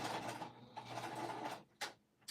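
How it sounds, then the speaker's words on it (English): A sewing machine stitches forward and then back stitches on fabric for a cuddle book, a quiet, close mechanical whir that runs steadily, briefly pauses and restarts, then stops with a few short bursts. "I'm going to stitch forward and then back stitch"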